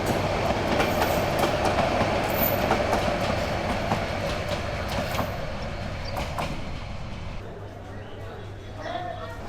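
A modern Bangladeshi passenger train runs with a steady rumbling roar and faint clicks of the wheels, heard from inside a coach, with talk in the background.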